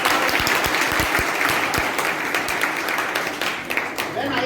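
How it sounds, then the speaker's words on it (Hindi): Applause for a student in a classroom or school hall, dense and loud clapping from many hands, with a few sharp claps standing out near the start and a faint voice beneath it. "मैडम आपके हाथ से एक बार आपकी जोरदार तालियां"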